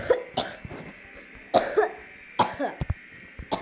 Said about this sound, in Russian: Извините, я просто кашляю.